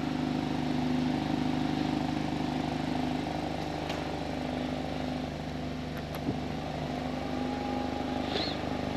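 A Volkswagen T-Roc R with 300 hp and an Akrapovic exhaust idles with a steady, loud low rumble up close, unchanging throughout with a few faint clicks and no talk.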